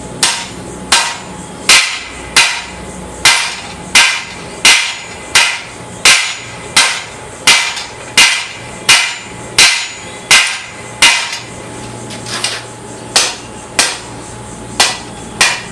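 A blacksmith hammers metal on an anvil with the heel of the hammer, shaping a point into a spade or leaf form: loud, ringing strikes in a steady rhythm, about sixteen blows, close and alone.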